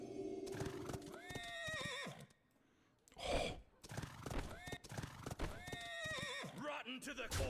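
Horse neighing and whinnying with clip-clop hooves in the Hearthstone card game, several loud whinnies with a brief pause in the middle.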